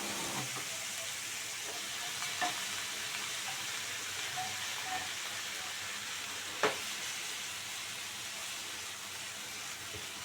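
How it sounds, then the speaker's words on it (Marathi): Brinjal and potato curry stir-fried in a pan with an onion-tomato masala gives a steady, close sizzle, with a few soft clinks of the spoon against the pan and no talking. "इथे छान माझी भाजी मी परतलेली आहे."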